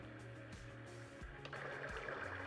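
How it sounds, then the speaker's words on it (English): Steady rushing thunderstorm-and-rain noise from a Marpac Marsona sleep sound machine, a continuous near wash with low hum underneath that brightens and intensifies partway through. "thunderstorm,"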